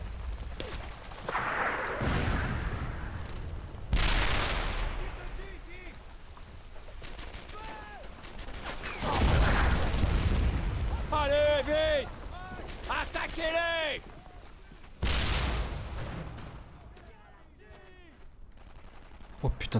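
Gunfire and artillery in the World War II shooter Brothers in Arms: Earned in Blood, with repeated loud bursts of shots and heavy blasts in waves, mixed with shouting voices and in-game chatter.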